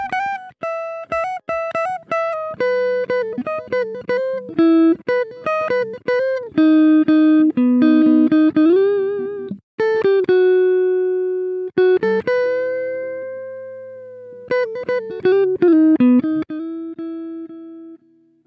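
A guitar solo played through Fruity Limiter compression with the sustain turned down: quick, bright single-note runs with bends and a few held notes, loud and clean, with no talking.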